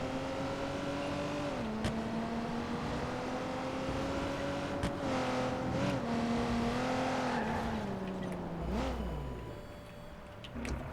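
A car driven in Watch Dogs 2 hums steadily with engine tones rising and dropping through gear shifts, then slows near the end with a short scrape or tire noise as it comes to a stop and is parked.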